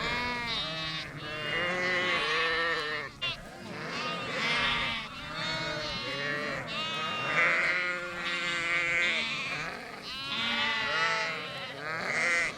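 Gissar breed sheep on a breeding farm bleating repeatedly, many overlapping loud close calls in a continuous chorus with no pauses.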